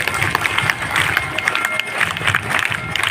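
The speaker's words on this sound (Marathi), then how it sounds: "त्यांचा जोरदार टाळ्या वाजवून स्वागत करायचं आहे" An audience at a school prize ceremony claps steadily for a top-scoring student, a dense, continuous patter of many hands at moderate loudness with no break.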